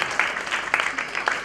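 An audience claps loudly for the performer playing the queen at a stage show, with several bursts of applause rising and fading across the moment.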